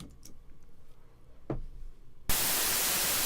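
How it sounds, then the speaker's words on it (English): After a quiet stretch of faint clicks and ticks, a music software audio plugin abruptly bursts into loud, constant white noise, a harsh full-spectrum hiss that continues steadily to the end. "the white noise is always going to play"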